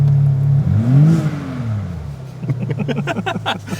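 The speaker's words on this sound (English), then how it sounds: "if you give it a little blip on the throttle" A BMW M3 Touring engine blips its throttle, rising sharply in pitch and falling back, then settling into a burbling, crackling idle nearby.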